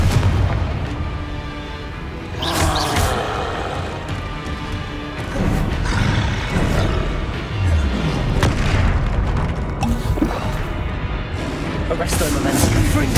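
Confringo fire-spell blasts in the Hogwarts Legacy video game, a series of deep booms and crashing impacts at irregular intervals over a dense, busy background, with voices heard in between.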